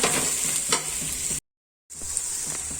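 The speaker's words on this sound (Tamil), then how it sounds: "மீடியம் ஃப்ளேம்லேயே வச்சு நீங்கள் வதக்குங்க." Bitter gourd sautéing in a pan over medium flame gives a steady sizzle with a few stirring scrapes. It cuts to silence for a moment, then the frying resumes.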